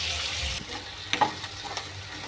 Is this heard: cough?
no